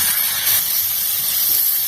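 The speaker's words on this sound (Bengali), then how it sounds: "এখন আমি জল দিয়ে দেবো।" Water hits a hot pan of spiced potato curry with a loud, sustained sizzling hiss that holds steady and close throughout.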